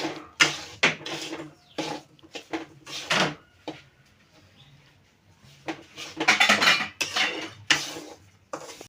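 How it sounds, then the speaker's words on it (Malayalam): Metal utensils scrape and clatter against a pan in several bursts as semolina is stirred in ghee, with quiet pauses between stirring strokes, close and fairly loud. "നെയ്യിൽ ഇടുകയാണ്. ഇട്ട് ഒന്ന് ഇളക്കിയെടുക്കണം."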